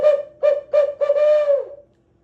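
A hand-held hooter call imitating an owl sounds a close, loud series of four short hoots followed by a longer drawn-out hoot that trails downward, then silence.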